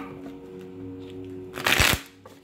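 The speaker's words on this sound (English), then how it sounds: "One more shuffle for Aquarius." A deck of tarot cards is shuffled close up, a brief rapid riffling burst rising over a quiet room.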